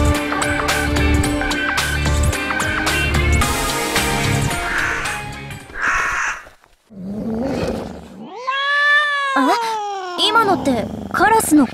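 Video game sound effects of cats fighting near a wedding venue: loud yowling and screeching cat cries with harsh caws from crows, layered over background music, with sharp drops between bursts.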